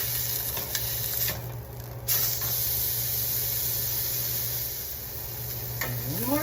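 Meat sears in a hot pan with a steady, close sizzle and hiss that runs continuously, with a few brief scraping touches as it is flipped.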